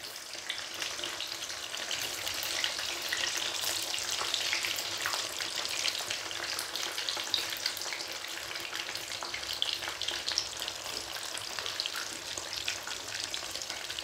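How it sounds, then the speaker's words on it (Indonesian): Eggplant sizzles steadily in reused oil left from frying tempeh, a dense, even crackle of hot oil that runs unbroken and close throughout with no talking. "Kita memakai minyak bekas goreng tempe. Kita goreng."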